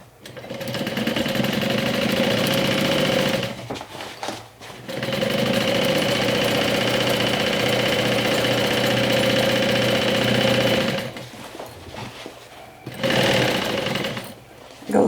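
A sewing machine runs steadily, stitching a backpack seam with a quarter-inch allowance, in long loud bursts broken by brief pauses before starting again.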